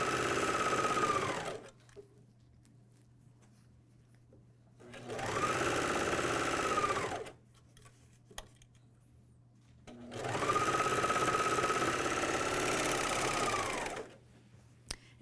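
MyLock 454D serger stitching fabric in three loud, steady bursts of fast mechanical whirring, each lasting a couple of seconds and separated by near-silent pauses with a faint hum.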